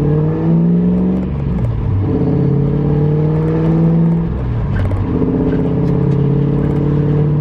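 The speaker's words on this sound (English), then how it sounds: "the truck has never felt better than this. Like, even just driving it around in the parking lot." A drift truck drives around a parking lot, its engine droning steadily and rising and falling in pitch as it revs and eases off, close and loud throughout with no talking.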